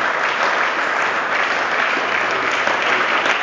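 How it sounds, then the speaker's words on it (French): A church congregation bursts into sustained, dense applause, loud and even throughout, with many hands clapping together and a faint murmur of voices underneath. "On acclame bien le Seigneur."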